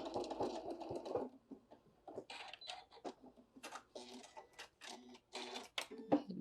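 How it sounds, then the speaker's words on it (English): A sewing machine stitches a few short runs and back tacks on a bag, quiet, stop-start mechanical bursts mixed with soft handling sounds and some low talk. "A couple stitches in. And then back tack."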